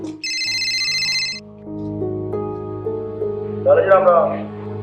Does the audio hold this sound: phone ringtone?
yes